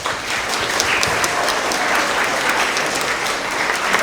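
At a spring school award assembly, an audience of students and families applauds the 4th and 5th grade Tigers of the quarter with a dense, steady roar of clapping lasting about four seconds, with no talking.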